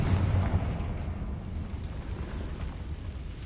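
A deep explosive boom from the Confringo spell in the video game Hogwarts Legacy, strongest at the start and then rumbling away into a fading low roar, with no voices.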